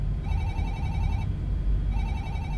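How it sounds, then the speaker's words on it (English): A telephone rings in an audio-drama scene, two bursts of a steady electronic trill separated by a short pause, moderately loud over a low background rumble. "Your phone is ringing."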